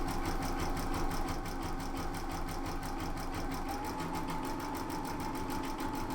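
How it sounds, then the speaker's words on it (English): A Brother Skitch PP1 embroidery machine stitching a design runs with a steady, fast mechanical hum and rapid regular needle clatter, close and even throughout, with no voices. "now I'm gonna let it continue stitching out"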